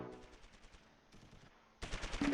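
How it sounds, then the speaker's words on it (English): Rapid bursts of MG42 machine gun fire in the Close Combat III war game, with short staccato volleys that break off, then come back as a louder, denser burst of gunfire. "That is an MG42 I was hearing, right?"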